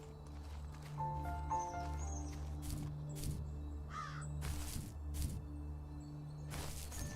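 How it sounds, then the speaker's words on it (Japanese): Crows caw several times in the video game The First Tree, short harsh calls scattered over soft, steady game music with light percussive taps. "またカラスが"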